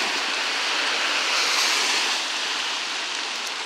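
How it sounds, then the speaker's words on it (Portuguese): Dense, steady hiss of heavy rainfall, broad and continuous without pauses, fairly loud and enveloping. "Graças a Deus, Deus mandou a chuva."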